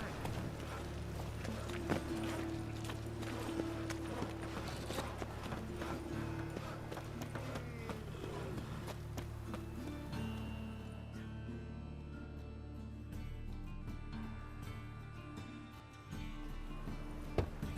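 A horse in The Witcher 3 clip-clops along in steady hoofbeats under a low game music bed, with occasional faint voices and a snort, the hooves rhythmic and mid-distance throughout.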